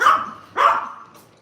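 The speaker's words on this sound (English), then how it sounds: "It's a barking party here." Two sharp, close barks from small Yorkshire terriers, one right after the other, each fading quickly into a short quiet tail.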